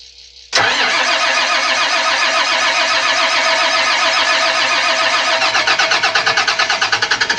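A Cat C7 diesel engine cranks and fires, its loud starter-and-engine roar beginning abruptly after a brief quiet moment and running steadily, with a rhythmic pulsing toward the end.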